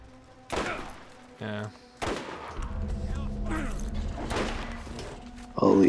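Shotgun blasts in the video game Borderlands, several sharp booming shots spread across the moment amid game noise, with a voice talking briefly over the action.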